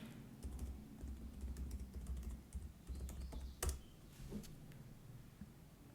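Keys tapped on a MacBook keyboard while entering a password during an Ubuntu installation, a run of soft, quiet clicks in an irregular rhythm heard alone, close by.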